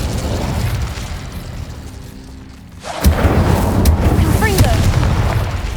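Fire spell cast in Hogwarts Legacy: a sudden loud burst of energy with a crackling, roaring whoosh that stays sustained for a few seconds, following a quieter stretch of game ambience with a faint voice.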